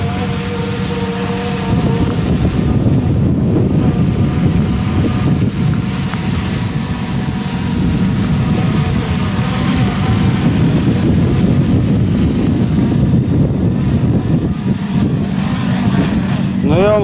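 A JJRC JJPRO X3 quadcopter drone flies in windy weather, its steady motor drone mixed with wind buffeting, loud and continuous for the whole stretch.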